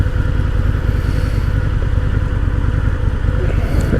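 A Harley-Davidson V-Rod motorcycle rides with a loud, steady engine drone and rapid low pulsing throb, close up and continuous, with wind roar mixed in.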